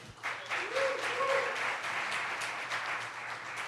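An audience at a digital creators retreat applauds, a dense wash of clapping from many hands that swells quickly and holds steady throughout.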